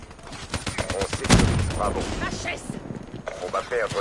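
Rapid gunfire bursts in the Call of Duty: Black Ops 3 beta on PS4, with a dense crackle of shots and a louder burst near the middle, mixed with game noise while someone talks over it.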